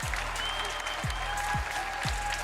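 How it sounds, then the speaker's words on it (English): A small patch of applause at a Fortnite esports tournament, steady clapping from a modest crowd with a few low thumps underneath, lasting a couple of seconds. "we get a little bit of round of applause there"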